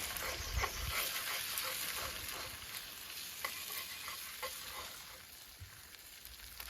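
Eggs or similar food being scrambled and stirred in a hot pan, a steady close sizzle with scraping and stirring strokes throughout, no talking.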